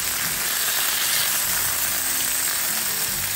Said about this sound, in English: So I'm gonna take my tomatoes and put it in there. All right. And I'm gonna stir that again.